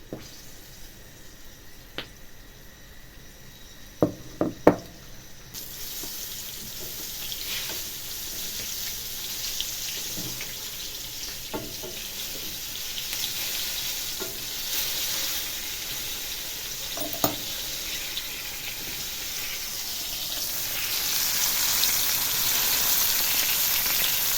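A soft, steady sizzle of crucian carp frying in a pan fills the background, with a few scattered clinks and taps of utensils.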